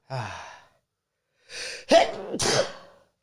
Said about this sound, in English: My apologies for the sneeze there.